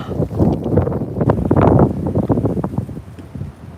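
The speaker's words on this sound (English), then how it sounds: "these gusts of wind are gonna suck. The wind keeps coming" Gusty wind buffets the microphone outdoors, a low, rumbling roar that swells and fades over a few seconds without voices.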